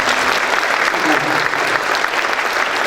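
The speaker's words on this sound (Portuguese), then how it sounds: "Uma salva de palmas, professor Marins." Dense, sustained applause from an audience at a lecture honouring Professor Marins, a loud even wash of many hands clapping without pause.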